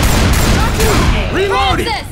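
Gunfire in the Left 4 Dead video game, a loud, continuous clatter of shots layered with chaotic game noise and overlapping voices for about two seconds.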